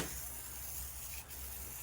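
Tire foam cleaner sprayed from an aerosol can onto the gas tank of a Honda CR125 motorcycle, a steady close hiss that runs almost unbroken, with one brief dip partway through.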